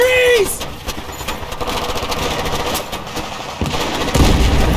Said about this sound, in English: Vehicle down, taking fire from the left!